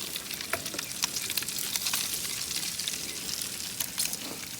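Maple bacon strips crackle and sizzle in a tray on an outdoor grill, a steady dense hiss dotted with sharp fat pops, close and continuous without voices.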